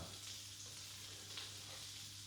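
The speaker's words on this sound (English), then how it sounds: "What you're trying to get is the butter to a point where it's sizzling but not turning brown." Butter sizzles steadily in a hot pan, a constant hissing crackle at low volume with no talking.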